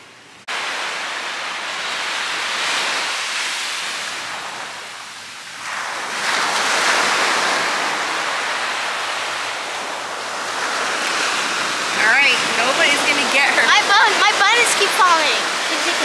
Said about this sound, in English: This is the beach, Mama. It's the beach.